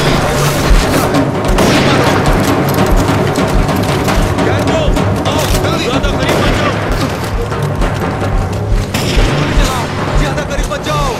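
Gunfire erupts in a sci-fi horror movie scene, with dense volleys of shots and booms under shouting voices and a tense music score, continuing without pause.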